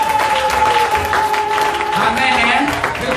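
A French-speaking church congregation applauds Jesus in a dense, continuous wash of clapping from a crowd, loud and sustained, with a held tone and voices mixed in beneath.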